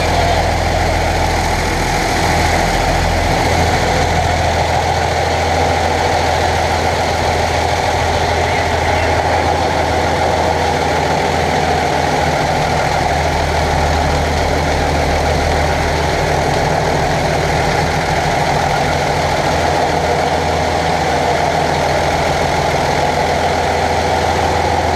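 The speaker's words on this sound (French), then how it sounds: "Vous n'avez rien entendu à cause des moteurs" Ship engines running in the engine room of a vessel: a loud, steady, constant drone with a deep low rumble and mechanical hum, continuous throughout with no talk.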